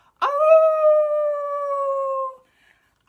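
A single sustained howl rises sharply, then holds a long, steady wavering tone for about two seconds before cutting off, loud and close with no talk over it, as people imitate wolves howling at the moon during a children's story time.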